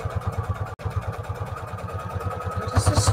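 A sewing machine runs a straight quarter-inch seam on scrap quilt pieces, giving a fast, steady mechanical chatter with one brief break and a slightly louder stretch near the end.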